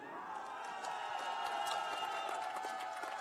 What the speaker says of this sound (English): almost the biggest round of applause